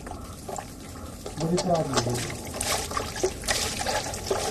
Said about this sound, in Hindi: हाँ, और पानी डाल,